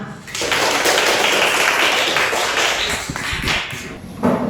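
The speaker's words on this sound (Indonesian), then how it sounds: "Ingat tepuk tangan." Classroom students clapping their hands together after a lesson presentation, a dense, loud burst of many hands that holds for about four seconds and then thins out at the end.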